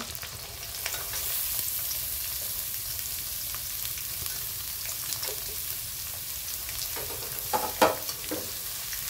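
Onion frying and being sautéed in a pan, a steady hiss of sizzling oil throughout with a few louder stirring scrapes near the end, close and without talk.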